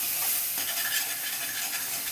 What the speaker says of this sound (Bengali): এই মাছ ভাজার তেলে আমি এই যে মশলাটা আছে ওটা একটু ভেজে নেব